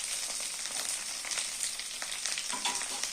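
Paneer cubes frying and being stirred in a pan for chilli paneer, a steady close sizzle with scraping stir strokes throughout, no voices.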